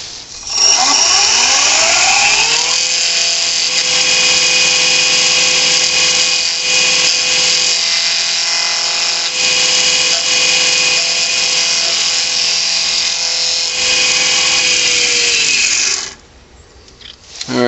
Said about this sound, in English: I'm going to trim the outer corners back a hair.